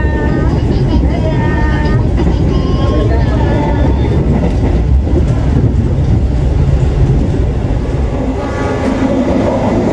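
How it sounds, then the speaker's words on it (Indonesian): Inside the Argo Dwipangga express train running at speed straight through Kroya station on track 4, a loud continuous rumble and rattle of wheels on rails fills the cabin, with a horn-like tone and voices talking over it. "Nih, stasiun Kroya kita berjalan langsung lewat jalur 4."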